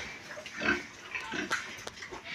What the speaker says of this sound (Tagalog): Nakapagpakain na din po ako ng baboy.